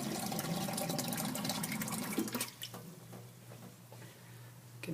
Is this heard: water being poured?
yes